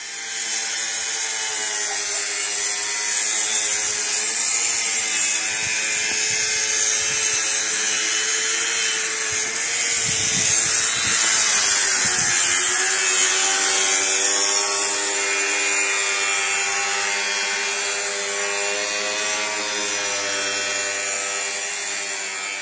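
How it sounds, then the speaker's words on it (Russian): A continuous whining power-tool cut through greenhouse frame pipe, running steadily and fairly loud throughout with a brief rougher patch midway. "А то пока Саша там пилит"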